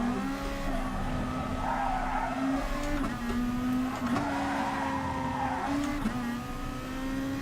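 Race car engines droning steadily in GT Sport during a Group 2 online race at Spa or Suzuka, with sustained engine tone rising and dipping through gear shifts and some tire squeal, continuous and fairly loud with no talk.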